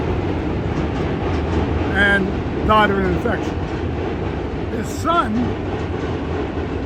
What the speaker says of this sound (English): Sorry about the noise of the subway going over the bridge